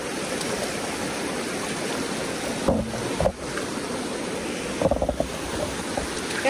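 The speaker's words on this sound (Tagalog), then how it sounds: "nalakas na ng agos dito" Strong current rushing over a small waterfall at Laur Falls, a continuous broadband roar of moving water, fairly close, with a few brief knocks and splashes.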